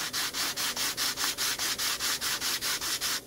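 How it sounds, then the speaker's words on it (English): Sanding a corner of an HO scale model building of Lee's General Store flat, a close, loud rasping rub repeated in a quick, even back-and-forth rhythm of about a dozen strokes. "when you file it off flat or sand it back flat"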